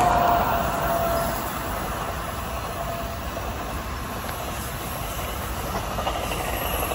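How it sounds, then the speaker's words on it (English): A New Jersey Transit train on the Northeast Corridor climbing up to grade over a small arch bridge, a loud steady rumble and rail hiss sustained throughout as it passes nearby, with no voices. "we got New Jersey Transit going up to grade"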